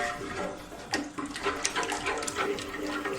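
Cold water splashes steadily into a pot to mix Ogbono soup, a continuous close pouring and sloshing with a few brief louder gurgles, and no voice.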